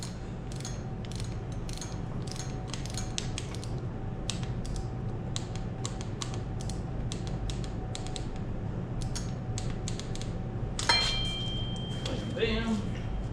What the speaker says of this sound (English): I have my handy dandy torque wrench, 1/4 inch. It said 53 inch-pounds is what they're torquing this to.